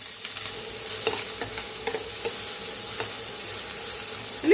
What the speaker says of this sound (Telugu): ఉల్లిపాయ పచ్చి స్మెల్ పోయేంత వరకు కూడా బాగా వేయించుకోవాలి